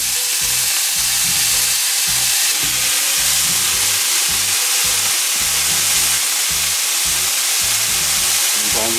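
Pickled cabbage hits a hot pan and sizzles loudly and continuously, with rhythmic low thumps of stirring or tossing beneath the hiss.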